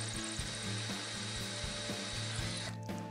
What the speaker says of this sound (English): when it comes time to drill with the larger bit, it kind of guides it through the center of the stud.